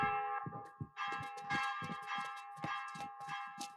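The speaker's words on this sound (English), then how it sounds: "Maybe that is Sophia ringing the bell up there." Church bell tolling from The Walking Dead, heard faintly as a sustained ringing tone beneath overlapping voices.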